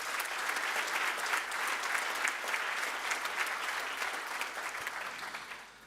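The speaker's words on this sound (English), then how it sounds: "He deserves a round of applause." Steady round of audience applause at an agricultural awards gala ceremony, dense clapping from a large crowd held at an even level before tapering off at the end.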